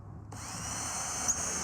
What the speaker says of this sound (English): I've used a 1/2-inch drill bit here to make several holes in the bottom of this pot.